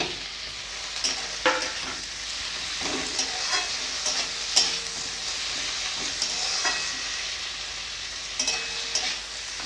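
Chopped onion, ginger paste, tomato and ground spices fry and sizzle in a pan, with a steady hiss broken by repeated scraping strokes of a stirring spoon, close and fairly loud.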